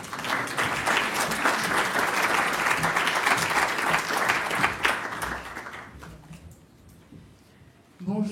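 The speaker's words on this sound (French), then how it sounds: "On peut les applaudir aussi." An audience applauds at a French presentation event on urban energy and carbon, warm sustained clapping from a sizable crowd that fades out after about six seconds, followed by a quiet room and a brief sound at the end.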